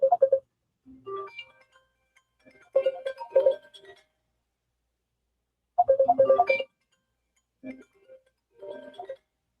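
An incoming call rings on a telephone during a live radio show, sounding in repeated short electronic ringtone bursts with silent gaps between them, clear and alone.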